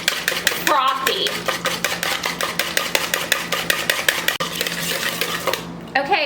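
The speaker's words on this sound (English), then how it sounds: "Have to whisk this, like really whisk it for like 2 minutes." Egg whites whisked by hand in a bowl for candied cashews, a fast steady rhythm of metal whisk clicking and scraping against the bowl, close and continuous.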